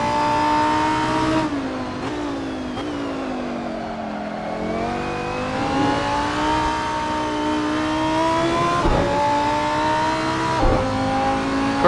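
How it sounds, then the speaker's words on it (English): A Lamborghini Gallardo or Huracan engine at full throttle in the Assetto Corsa racing game at Laguna Seca, a loud steady high-pitched roar that climbs and drops with gear shifts for the whole stretch, with no talk. "Full throttle like that, no problem, no tire spin."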